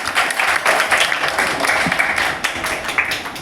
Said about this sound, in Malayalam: സോ നല്ലൊരു കൈയടി എല്ലാവരും കൊടുക്കുക.